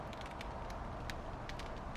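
A freshly baked campagne loaf just out of the oven crackles softly as its crust cools, scattered quiet ticks and snaps over a faint steady background hiss.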